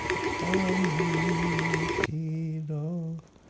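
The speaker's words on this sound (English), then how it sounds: "Mix everything up on gear 4 in our mixer." A stand mixer running at speed 4 kneads bagel dough with a close, steady motor hum and rhythmic whir, then slows and stops near the end.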